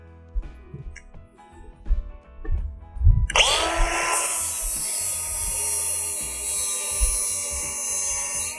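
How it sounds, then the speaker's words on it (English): A powered grinder bites into a steel lawnmower blade being balanced, a loud harsh whine that kicks in abruptly partway through and holds steady to the end, after a few quieter knocks and handling thumps. "So let's grind some off of this."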